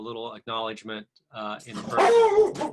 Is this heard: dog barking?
yes